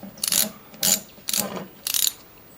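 A Hyundai air conditioner belt tensioner being taken apart on a workbench, giving four short, evenly spaced metallic ratcheting bursts, close and fairly quiet, with no talk.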